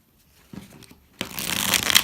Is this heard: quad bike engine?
no